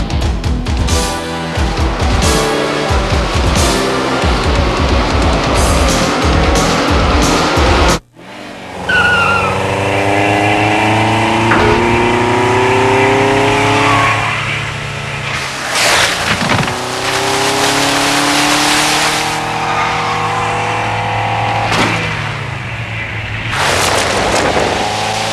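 Busch Grand National race cars on a short track, loud roaring engines with rapid repeated passes and tire squeal, a brief cut partway through, then sustained racing noise with cars sweeping by, no talking.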